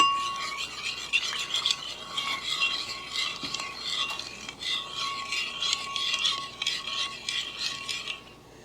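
Coffee liqueur being stirred into instant espresso powder, a steady scraping, rasping stir of a utensil against a dish running continuously at close range with no talking.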